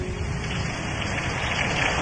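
Rain pours steadily at close range as a sound effect in a Spanish-language suspense and horror radio drama, with an even, dense patter of drops and no voices.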